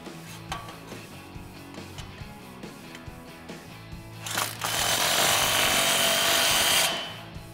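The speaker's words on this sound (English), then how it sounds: "Tighten down this clamp." A power tool tightens an exhaust pipe clamp on a 2011-2014 Ford F-150 3.5L EcoBoost: light clanks and knocks first, then a loud, close, steady whirring burst lasting about two and a half seconds.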